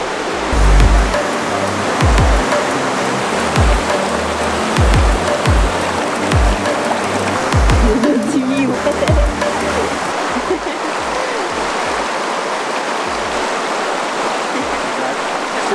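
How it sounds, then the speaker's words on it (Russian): Two mountain rivers rushing together at a confluence near Dombay, a loud continuous roar of churning water with low thumps underneath, and brief talking nearby. "мы идем к слиянию двух рек"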